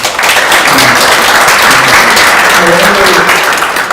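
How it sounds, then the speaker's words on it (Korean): A lecture audience at a special talk on Korean nuclear power breaks into loud, sustained applause, dense overlapping claps filling the room steadily from start to finish, with faint voices underneath. "우리 정말 만수무강을 기원하는 우리 박수 한번 보내주시기 바랍니다."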